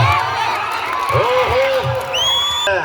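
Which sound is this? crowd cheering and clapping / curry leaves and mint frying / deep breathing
crowd cheering and clapping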